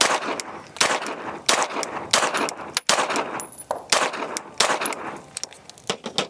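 A Tisas 2011 pistol fires a rapid string of loud, sharp gunshots, roughly ten evenly spaced cracks close to the listener with brief ringing between them.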